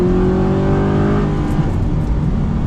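Old-shape Audi R8 supercar, high mileage, driving with a loud, steady engine drone and harmonic whine that holds throughout, close and dominant with no talk over it.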